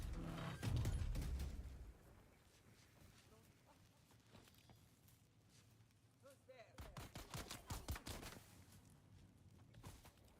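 Turrets open fire in the Dune video game, with rapid bursts of gunfire in clusters at the start and again later, separated by a quieter stretch of mechanical rumble and clatter.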